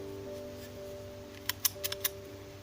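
Scissors snip printed paper silhouettes, a few quick crisp cuts close by in a row over a quiet background hum.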